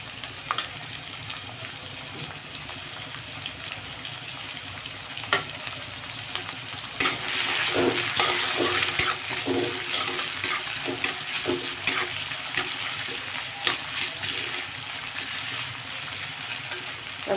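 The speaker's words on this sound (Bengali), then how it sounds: "তেল গরম করে নিয়েছি। এর মধ্যে আমি একটু গোটা জিরে দেব, একটা শুকনো লঙ্কা ফোড়ন দেবো, এবার পেঁয়াজটা দিয়ে দেবো।" Whole cumin, a dried red chili and onion hit hot oil in a pan, giving a continuous close sizzle that swells louder midway, with scattered stirring clicks and no talk.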